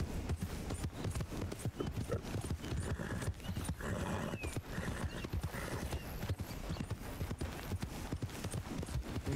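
Horse hooves clip-clopping steadily in Red Dead Redemption 2, a continuous loud rhythmic trot on the ground with a brief whinny, game ambience underneath and no talking.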